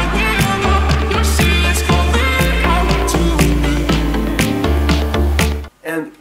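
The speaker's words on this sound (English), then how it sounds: "And now some snares, some impacts, effects, and all that stuff" Electronic dance remix build-up with snares, impacts and effects over pulsing bass chords, dense and loud throughout with sharp hits, then a sudden cut to near silence and a short final burst.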